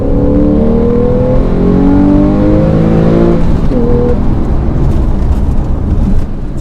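Porsche 991 engine revving hard under aggressive driving with stability control off, loud close engine tones rising through the revs then dropping on a shift, with road and wind roar underneath.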